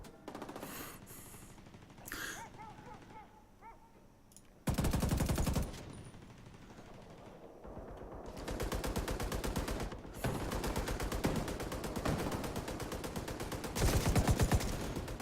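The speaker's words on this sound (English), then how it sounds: "God damn, this is a firefight." Bursts of automatic gunfire in a firefight in The Division come in loud, dense stretches separated by brief quieter gaps, with sporadic single shots and some muffled background noise between volleys.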